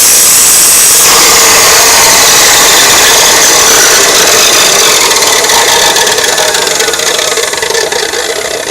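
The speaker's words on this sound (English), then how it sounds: "before I cranked that noisy chop saw up" A noisy chop saw runs continuously, loud and close, grinding the teeth of a Woodmizer homemade sawmill blade to sharpen them, with a harsh, steady rasping whine throughout.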